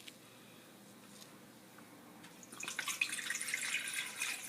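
Orange juice poured into a container for a wing sauce that will be blended: a steady liquid splash and trickle that swells after a quiet start and runs on close and fairly loud to the end.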